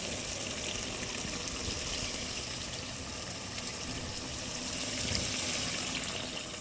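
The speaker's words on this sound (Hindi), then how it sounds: "अब इसमें हम पानी डाल देंगे" A steady stream of water pours and splashes into a pan of browned chicken kofta, a constant close rushing sound with no voices.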